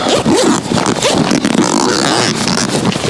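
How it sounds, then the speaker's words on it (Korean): A zipper runs closed on the cover of a 270-degree awning on a car rooftop tent, a close, loud ratcheting rasp that pulls steadily for about three seconds. "그리고 지퍼를 달아줍니다."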